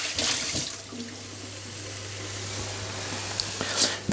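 A frying pan is rinsed under a running kitchen tap: a constant close rush of water splashes into the pan, with a couple of faint clinks near the end.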